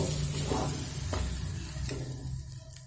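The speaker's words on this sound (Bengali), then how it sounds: "এইবার দেখুন এইভাবে বাঁধাকপির সঙ্গে ডাল খুব সুন্দর করে কষিয়ে নেব" Shredded cabbage and lentils stir-fried in a pan over medium flame, with a continuous close sizzle and a few scraping strokes of a spatula, then a quieter sizzle.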